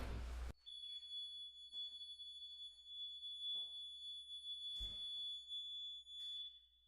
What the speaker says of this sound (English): Let me demonstrate the alarm system.